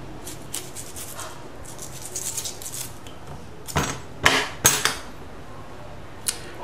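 A spoon scrapes and cuts through banana-leaf-wrapped Lao food, soft rubbing at first, then several sharper clinks and scrapes close by, with one last light tap.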